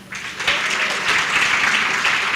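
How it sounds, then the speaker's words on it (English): Room full of people applauding the women in ICT at an African Girls Can Code launch, sustained many-handed clapping that swells in after a brief start and stays loud and even. "Another round of applause for the women in ICT."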